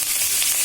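Spices fry in a pan while vegetables cook, giving a continuous soft hiss and crackle at even level, with no talking over it.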